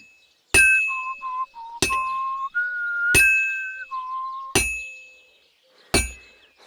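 A hammer strikes metal in the Kingdom Come: Deliverance II blacksmith minigame, five sharp ringing clangs spaced about a second apart. Each is followed by a lingering metallic ring and a faint whistling tone in between.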